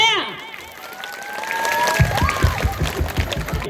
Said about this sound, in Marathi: चला, जोरात टाळ्या.